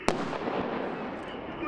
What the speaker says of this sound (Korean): 엄청난 폭발음과 함께 깊이 5m의 화구가 형성돼 적 전차는 갈 곳을 잃어버립니다.